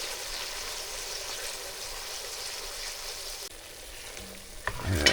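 Lean 80-20 ground beef sizzles and browns in a pot for a one-pot taco pasta. The frying hiss is steady and loud, then eases partway through, and a few clinks come near the end.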